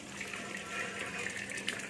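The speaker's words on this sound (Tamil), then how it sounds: "இப்போ இந்த வடிகட்டியில் இதை அப்படியே கொட்ட வேண்டியது தான்" Cooked rice and its hot starchy water poured into a metal strainer in a home kitchen, a steady rushing, splashing gush of liquid that continues throughout without talk.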